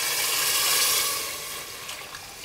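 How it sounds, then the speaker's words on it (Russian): Broth pours into a pot of fish solyanka made with sturgeon and potatoes, a steady close splashing rush that swells and then eases slightly, with no voices. "Теперь я добавляю картошку и выливаю бульон."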